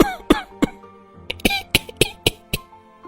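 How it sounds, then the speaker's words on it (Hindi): Several people in a house break into coughing together, roughly ten harsh, close coughs in an irregular run, some doubled up, with brief throat clearing between them. "ये क्या, सभी को साथ में खांसी आने लगी?"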